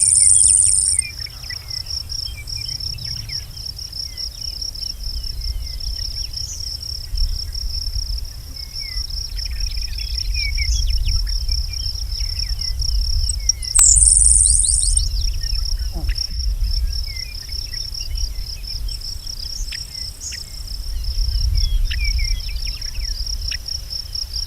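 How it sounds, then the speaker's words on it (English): Two brief, high, insect-like buzzy songs from a grasshopper sparrow, one at the start and one midway, over a constant shrill drone of crickets. "A grasshopper sparrow."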